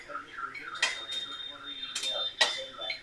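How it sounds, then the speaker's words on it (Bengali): Fried lentil dumplings go into a pot in a kitchen where a spinach dish is being cooked, giving several sharp metallic clinks and scrapes of utensils on cookware under a woman's speech. "আমি একটা পাত্রে তুলে নেব।"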